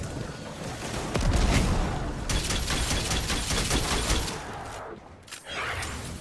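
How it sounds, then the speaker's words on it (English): A grenade is thrown and bursts in Destiny 2 gameplay, heard as a loud, dense blast with crackling debris that fills most of the clip and then trails off. "I have a nade here, so I'm gonna throw a nade here."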